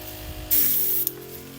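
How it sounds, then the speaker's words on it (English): Airbrush spraying paint from a compressor set to 38 psi, a half-second burst of steady hissing spray that cuts off with a short click, then quiet. "let's turn our compressor to 38 psi"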